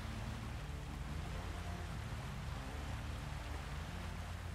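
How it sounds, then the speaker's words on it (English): Steady rain pouring in the truck-driving game SnowRunner, a dense, continuous hiss with a low rumbling engine bed beneath, no voices. "It's raining, man."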